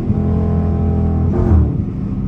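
Ford Mustang V6 exhaust passing on a stormy highway, a loud raspy engine drone with steady low harmonics that swells briefly as the car goes by, with no talking.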